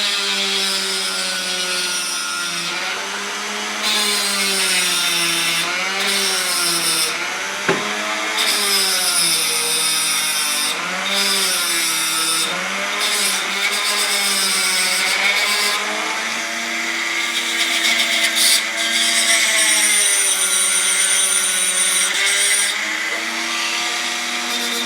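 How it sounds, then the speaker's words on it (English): A Dremel rotary tool grinds a lead figure's hoof, a continuous high whine close by whose pitch wavers and dips as it bites into the metal, with brief lighter pauses throughout. "I'm just going to take a dremel. Try to get more shape on the hoop here."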